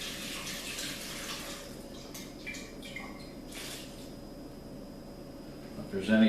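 Faint, steady pouring of salt brine over pickles in a jar, a soft continuous splashing stream.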